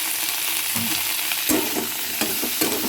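Vegetables with potato and fresh turmeric frying and being stirred in a wok for a Chhath Puja dish, a steady close sizzle broken by scraping stirs and a few louder clanks of the spatula, with no talk.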